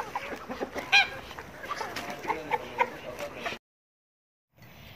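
Poultry clucking and calling near the camera while eating freshly chopped greens on a farm, a few louder squawks among the chatter, then the sound cuts out for about a second before faint ambient noise returns.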